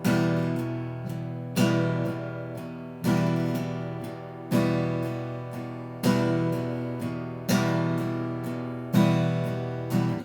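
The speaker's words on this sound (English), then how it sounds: "that is a very, very basic waltz strum that you can do" An acoustic guitar strums a steady three-beat pattern, a strong accented strum followed by two lighter ones, repeating evenly and close.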